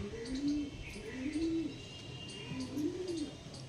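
Pigeons coo softly up close, three drawn-out rising and falling coos in a slow rhythm with faint chirps behind.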